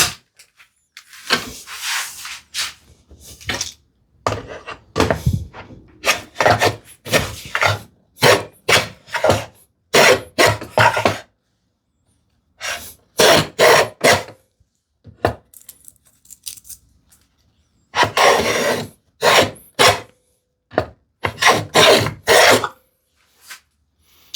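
Hand-tool shaving of wood for a desktop organizer, a thick shaving taken: a series of short, loud rasping strokes in bursts with brief pauses, close up and without talk.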